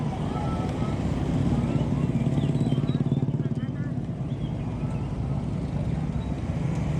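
A motorcycle is pulled over and parked at the roadside near a Ramadan market in Kampung Minang, Dharmasraya. Its engine idles as a steady, close, low rumble under people talking.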